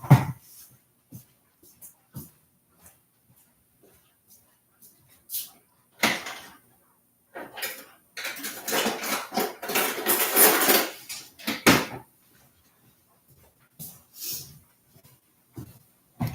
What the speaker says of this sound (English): you take your peeler and you cut off these little edges